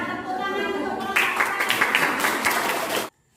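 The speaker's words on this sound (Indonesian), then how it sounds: "Tepuk tangan untuk kelompok." Classroom applause for a student group, a burst of clapping that swells loud after the first second and carries on steadily before cutting off sharply, with voices mixed in at the start.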